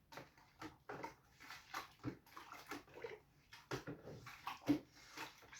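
Cold tap water runs into a home brew vessel for a hazy IPA malt extract kit, a splashing, uneven filling sound in irregular surges at moderate level.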